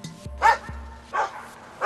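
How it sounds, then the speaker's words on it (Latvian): Shelter dogs bark loudly in short, sharp bursts, two close barks spaced about a second apart, with a low background hum underneath. "suņi Vili sagaida ar skaļām rejām"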